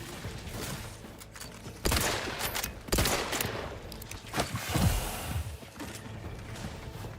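Gunfire in The Outer Worlds 2 video game: repeated sharp shots and bursts crack out over a steady battle din, with loud impacts near 2, 3 and 5 seconds and no voices.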